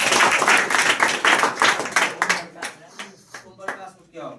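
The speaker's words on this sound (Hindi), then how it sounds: "ताली बजाओ उसके लिए।" A classroom of students claps in a burst of applause for the top-scoring student, the clapping fading into scattered claps as a voice starts speaking.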